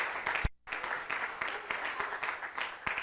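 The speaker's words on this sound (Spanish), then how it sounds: "Denle un aplauso a ese Dios tan poderoso que tenemos." Applause from a church congregation during a sermon, a steady wash of clapping with a brief gap near the start before it resumes and carries on evenly.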